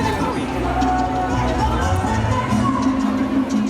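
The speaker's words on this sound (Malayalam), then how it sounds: "പള്ളിയുടെ മുന്നിൽ വലിയ ജനക്കൂട്ടമാണ്." Large crowd gathered in front of a church in Lima, Peru, a dense, steady murmur of many voices and footsteps, loud and close, with no single voice standing out.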